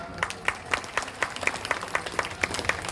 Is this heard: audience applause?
yes